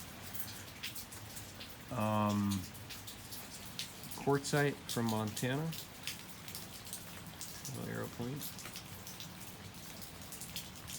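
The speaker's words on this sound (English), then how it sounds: "We're getting a lot of rain." Steady outdoor rain pattering on surfaces in cold weather in California, a continuous hiss under someone talking briefly about a stone arrow point.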